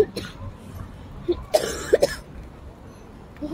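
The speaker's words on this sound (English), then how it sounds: "I keep coughing" A boy coughs several times in short bursts, a few sharp isolated hacks spread over a quiet stretch with faint background noise, in a playful badminton setting.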